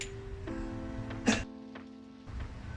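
A single sharp sneeze bursts out near the middle, close and loud, over a steady low hum and faint background noise, during work on an S13 200SX.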